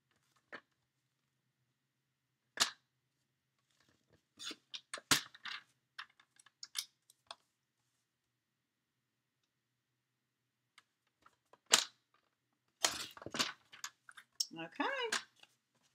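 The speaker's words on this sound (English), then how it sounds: "I thought it would be pretty easy to trim this with the trimmer" A paper trimmer cutting cardstock on a quiet tabletop: scattered close clicks and taps as the sheet is positioned, followed by a brief cluster of rasping, scraping strokes as the blade slides through.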